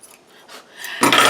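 Scissors snip through craft material in a brief, close cutting sound, quiet rustling at first and then a louder crisp crunch in the final moments.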